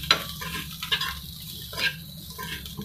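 Masala sweet corn is stirred in a pan, a soft continuous sizzle with a few spoon clinks and scrapes at the start and near the middle, close and moderately quiet.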